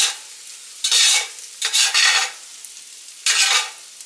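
A utensil stirs food frying in a pan, making three or four loud scraping sweeps over a steady sizzle with short gaps between strokes.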